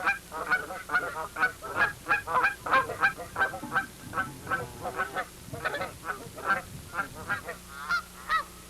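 A flock of dusky geese honks continuously in overlapping, rhythmic calls, a busy chorus of short nasal honks close by with no voices over it.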